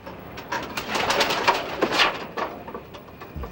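A two-week-old pet bird named Daisy, hand-raised from the egg, gives a series of soft, close coos and chirps in a quiet room, with short pauses between calls.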